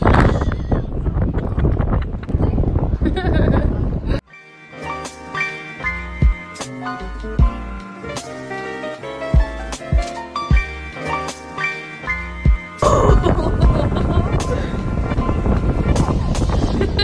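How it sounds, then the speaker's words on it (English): Strong, cold wind roars and buffets the microphone on the second floor of the Eiffel Tower in Paris, loud at the start and again near the end, with a stretch of music between the gusts. "It's super windy and cold."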